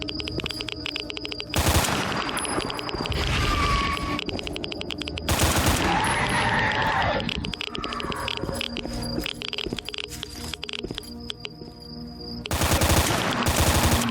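Gunfire in the S.T.A.L.K.E.R. Shadow of Chernobyl video game, with several loud bursts of automatic shots and scattered single cracks over a busy game soundscape of ambient noise.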